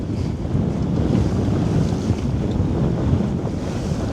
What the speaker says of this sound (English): the wind's just starting to pick up as well